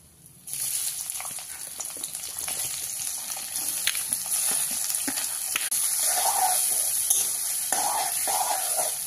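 Onions hit a hot pan for chicken kosha and sizzle steadily for about nine seconds, starting abruptly. Occasional scrapes and clinks of stirring sit over the hiss, with no talking.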